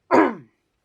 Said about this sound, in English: I really do apologise for all the coughing and spluttering